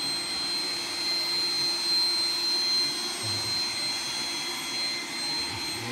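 A steady mechanical whir of a Roomba robot vacuum cleaner running close by, a constant drone with a faint high whine over it.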